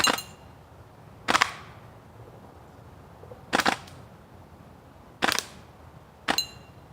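G&G M4A1 airsoft carbine firing five short full-auto bursts with pauses between, crisp clattering rattles standing out loud and alone against quiet background.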